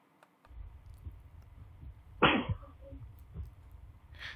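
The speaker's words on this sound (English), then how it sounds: "That's the son coughing." A boy coughs once, a short loud burst with a quick follow-up, against a quiet indoor background with faint clicks and low rumble during an overnight investigation recording.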